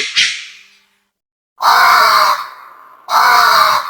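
Cartoon birds screech and cry out in alarm as they flee a burning forest, one short cry followed by two long, loud harsh bursts separated by a brief silence.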